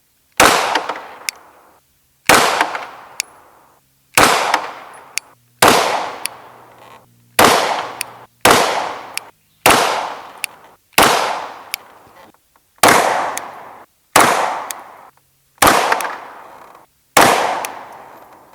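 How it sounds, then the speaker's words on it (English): PSA Dagger pistol fired at an outdoor range during accuracy group testing at 18 yards, a loud sharp report roughly every one to one and a half seconds, about eleven evenly spaced shots, each ringing briefly. "We're gonna shoot some groups with some different bullets."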